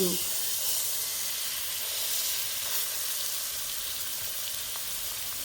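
Catfish fries in hot oil in a skillet, giving a steady, dense sizzle and hiss. It sounds close and continuous, with no talk.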